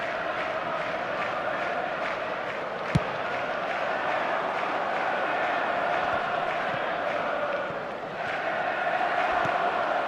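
A stadium crowd roars and murmurs after a shot strikes the post in a football video game, a steady broad swell of cheering and chatter lasting the whole stretch, with one brief sharp thud near the start.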